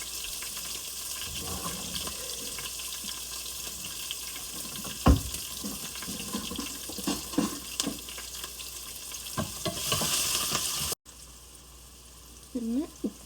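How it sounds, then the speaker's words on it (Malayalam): Chopped onion, ginger and green chilli sauté in a pan for beetroot pachadi with a steady close sizzle, occasional stirring knocks and running water, then the frying cuts off near the end. "അരിഞ്ഞ് വെച്ച ഉള്ളി, ഇഞ്ചി, പച്ചമുളക് ഇതൊക്കെ ഒന്ന് പയ്യെ വെട്ടിച്ചെടുക്കുക."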